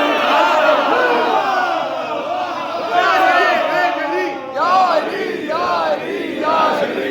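A large crowd in a religious gathering at a Birmingham hussainia shouts a slogan in unison, with loud, rising and falling voiced calls repeated several times.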